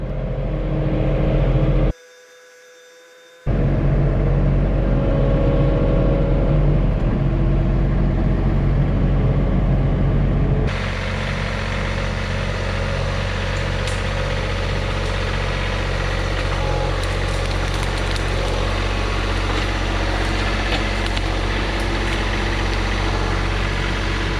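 A John Deere 3046R compact tractor fitted with a grapple idles and runs steadily at close range, its low engine drone continuous throughout, with a brief cut-out early on and a slight shift in tone partway through.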